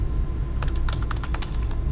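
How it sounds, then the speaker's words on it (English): Keystrokes on a computer keyboard entering a terminal command, a quick run of close, crisp clicks over a steady low background hum. "So to run it, you type Python"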